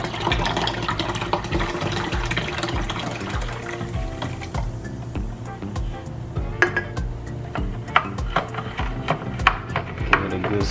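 Non-alcoholic ginger beer poured from an opened container into a glass of blue raspberry lemonade drink, a continuous trickling and splashing fill with small clinks and pops, close and fairly loud.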